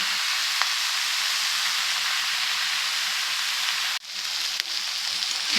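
Mutton mince frying with peas and potatoes in a pan gives a loud, constant sizzle, broken once by a brief dip as the food is stirred before the hiss resumes.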